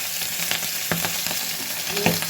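Sabda fish fry in hot oil with a dense, steady sizzle and occasional stirring scrapes, close and fairly loud with no talking.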